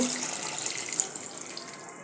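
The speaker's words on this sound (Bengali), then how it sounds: "কষানোর পর পরিমাণ মতো পানি দিয়ে দেব" Water is poured into a pot of simmering country (desi) chicken curry, a steady, close splashing gush that runs for about two seconds and then tapers off.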